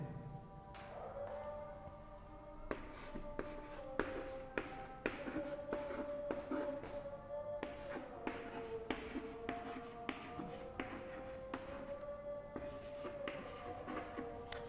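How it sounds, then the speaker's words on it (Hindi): Chalk or marker tapping and scraping on a board during a history lecture, a steady run of quick close strokes with a thin squeaky tone running beneath. "तो इन्हीं के साइड में मैं यहाँ पे लिख रहा हूं केशव चंद्र सेन"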